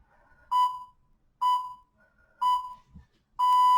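A workout interval timer rings in a fitness class, sounding four loud, clear electronic beeps at a steady pace of roughly one per second, with the last one held longer, in an otherwise quiet room.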